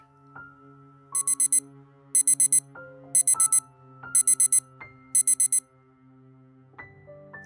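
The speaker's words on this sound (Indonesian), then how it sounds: "bersamaan dengan alarm dari ponsel yang tergeletak di atas meja belajar" A phone alarm from a phone lying on a study desk rings in repeated bursts of quick electronic beeps, layered over a melodic ringtone tune, fairly close and clear.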